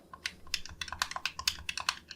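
Buttons on a Turtle Beach game controller for PC and Xbox are pressed in a rapid, uneven run of light, crisp, close clicks with no talking.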